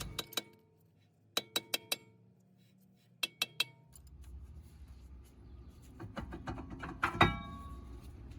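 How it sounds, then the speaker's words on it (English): Metal hammer blows against a tight, seized car brake drum during a brake job, several sharp clanging strikes in quick groups of three, fairly close, followed by softer rattling and clinking of parts. "It's tight, so we're gonna go at it with the hammer."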